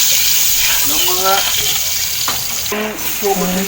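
Butter sizzles loudly in a pan with king crab, a steady bright frying hiss with stirring, while a voice talks over it in bursts.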